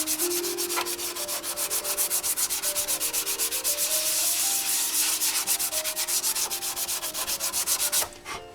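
A sanding block works over a repaired motorcycle fairing in fast, even back-and-forth strokes, a close rhythmic rasping that runs steadily before stopping abruptly near the end.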